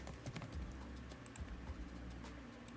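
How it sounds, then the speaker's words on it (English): Soft, quick keystrokes on a computer keyboard as a password is typed during a PostgreSQL install on Windows, a brief run of light clicks up close. "type your password here"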